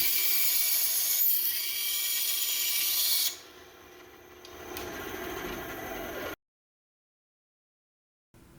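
A power driver drives screws through aluminum LED track into the molding of a ceiling beam: a high steady whine for about three seconds, then a lower grinding run, before it stops into silence.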